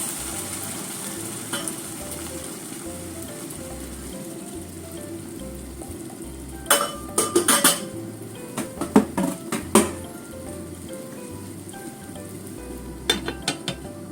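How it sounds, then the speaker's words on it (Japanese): Sweet potatoes sizzle and steam in a pan with a little water over low heat, a steady soft hiss with intermittent sharper crackles and utensil clatter in bursts, close by. "弱火にしてちょっと蒸しにしますね"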